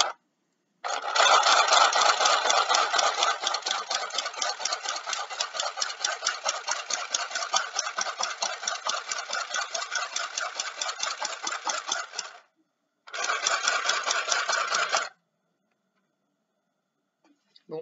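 Mini sewing machine stitching through a paper craft card, a loud, fast rattling run of needle strikes lasting about eleven seconds, then a short pause and a second brief burst before it stops.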